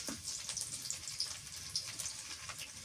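Garlic sizzles in hot oil in a handi pot during village-style mutton curry cooking, a faint continuous crackle with scattered small pops and no speech.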